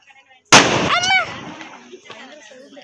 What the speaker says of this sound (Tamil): இப்போ பட்டாசு வெடிக்க ஸ்டார்ட் பண்ணிட்டோம்